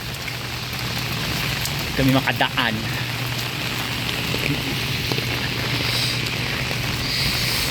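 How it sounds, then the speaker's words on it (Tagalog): Heavy rain pours steadily in a constant dense hiss of drops on surfaces, loud and continuous, while a person speaks briefly over it. "Lumakas yung ulan."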